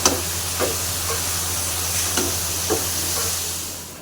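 A shrimp and bean-potato bhaji fries in a pan with a steady, fairly loud sizzle, punctuated by several soft scraping stirs at uneven intervals.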